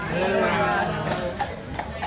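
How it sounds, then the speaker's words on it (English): Hooves of two Percheron draft horses clip-clop along while pulling a tour carriage on Mackinac Island, Michigan, a steady near rhythm heard under continuous talk. "these two are percheron draft horses"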